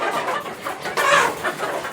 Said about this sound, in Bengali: এই সাইডে আরও দেশি মুরুগ আছে